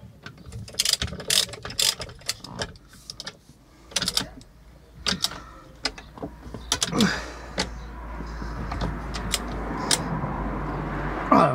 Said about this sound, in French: On va lui mettre un petit coup de serrage.